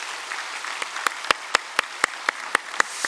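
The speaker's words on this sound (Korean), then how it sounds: "박수로 환영하겠습니다." Congregation applause welcoming new member families at a Korean Sunday worship service, a wash of clapping that settles into loud, evenly spaced rhythmic claps.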